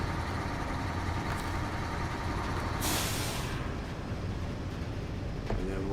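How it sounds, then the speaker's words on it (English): A video-game truck's engine shuts down at a quarry cargo run, a steady rumbling idle broken by a loud air-brake hiss near the middle, then the low engine drone carrying on underneath. "Might as well turn the engine off."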